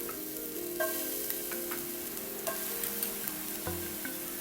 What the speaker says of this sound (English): I'm just going to saute it just a touch